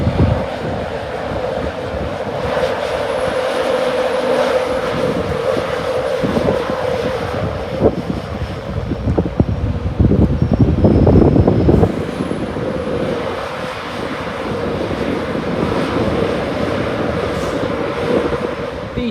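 Train passing through Doncaster station, a loud continuous rumble and roar of wheels and engine lasting the whole stretch, swelling briefly in the middle, with no talk over it.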